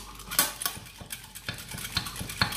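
A rice face scrub mixture with oil is whisked in a bowl, quick, uneven clicks and taps of the utensil against the sides, close and moderately loud with a faint wet patter.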